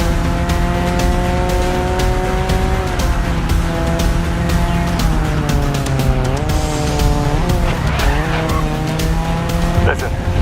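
Race car engines in GRID Legends during a practice session, a loud, close engine whine rising and falling through gear changes, with tire squeal and skidding and faint voices in the background.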